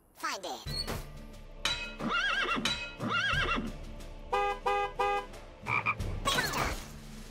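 Croaking frog calls from the rhythm video game Headbangers Rhythm Royale come in quick repeated bursts, mixed with other bright game sound effects and jingles that play in a steady beat.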